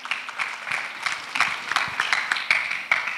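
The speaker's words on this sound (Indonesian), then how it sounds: "Tepuk tangan dulu dong teman-teman." Scattered hand clapping rises from an audience at a careers-in-international-relations panel session, a modest, steady patter of applause lasting a few seconds.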